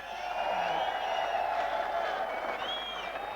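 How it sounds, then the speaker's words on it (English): A crowd applauds and cheers after a wrestling match between Laura Skinner and Yoshizawa, a steady wash of clapping and whoops in a large arena. "An appreciative crowd."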